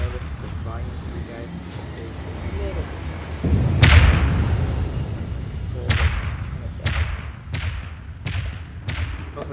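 Enemy missiles striking a ship in the Dreadnought space combat game, a heavy thudding impact followed by a string of sharp hits landing in quick succession, loud and close, while voices talk throughout.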